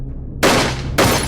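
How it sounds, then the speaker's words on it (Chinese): Gunfire from a war film: a sharp single shot followed about half a second later by another loud, close shot, each bursting out abruptly over a low rumbling bed with no talk. "那个枪手突然开枪"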